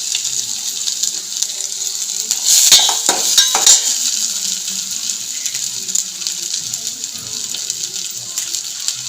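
Four crushed garlic cloves frying in a pan of oil for South Indian tomato rasam, a steady hiss with a louder sizzling burst in the middle.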